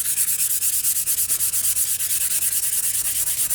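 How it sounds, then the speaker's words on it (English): Wet sanding of a lacquer finish with fine silicon carbide paper: steady, rhythmic rubbing strokes repeating quickly and evenly up close, with no talking. "this is called wet sanding"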